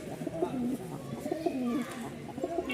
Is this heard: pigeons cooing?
yes